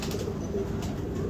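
Pigeons, a prized show pair belonging to a breeder, give a soft, continuous low cooing murmur close by for a brief moment, with no voices.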